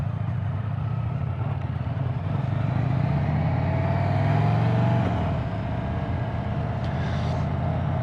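An Indian Springfield Darkhorse 116 motorcycle ridden through twisty roads gives a steady, close engine drone mixed with wind rush, holding even for the whole stretch with a slight swell midway.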